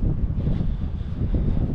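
Steady wind buffeting a microphone, a continuous low rumbling roar with gentle swells in strength and no voices.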